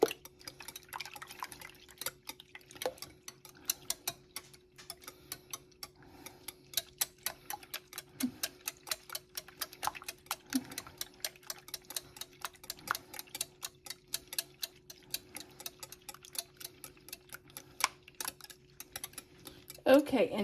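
Eggs with their yolks being broken up in a bowl for an Easter breakfast casserole, beaten with a fast, steady clicking and tapping that runs for about twenty seconds, close and moderately loud over a faint background hum.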